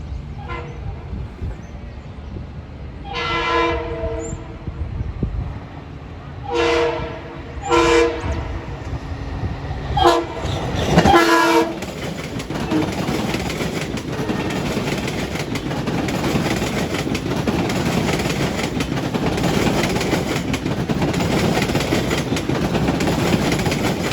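Long Island Rail Road trains move through New Hyde Park station: several loud horn blasts sound, then a heavy, close rumble and rattle of cars rolls past steadily, with a diesel equipment move among them.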